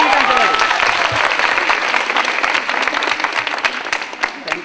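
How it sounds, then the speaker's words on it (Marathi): Audience applause at a Kanya College event in Satara, where dense clapping from a crowd is heard close and loud, thinning slightly toward the end. "जोरदार टाळ्या"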